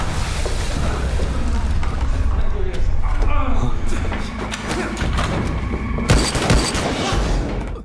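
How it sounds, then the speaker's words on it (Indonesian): Gunfire in a film scene, with repeated booming shots and bursts of rapid fire over a dense, rumbling action soundtrack, with voices mixed underneath. "Ujang menembakkan senjatanya ke arah Sohyuk"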